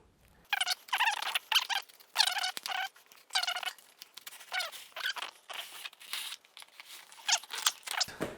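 Knife slicing open a cardboard box holding a Konova slider, a run of sharp squeaky scraping strokes in bursts, close and fairly loud with short pauses between cuts.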